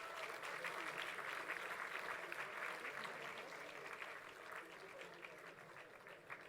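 Parents at a 2018 business school convocation applaud steadily, a dense wash of clapping that holds for several seconds and slowly thins, heard faint and distant.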